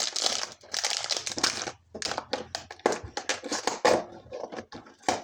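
Plastic packets crinkle and rustle in quick irregular bursts, close by, with short pauses between handfuls and no talking.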